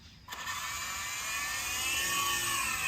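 Hercules RC toy helicopter lifting off, a high whirring motor and rotor whine spinning up after a brief quiet start and rising steadily in pitch and loudness, close by with no talking.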